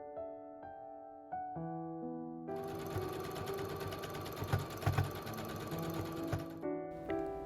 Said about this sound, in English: Sew from the notches finished line to the hem.